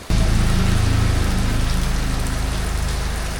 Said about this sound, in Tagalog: tumigil muna tayo kasi lumakas na yung ulan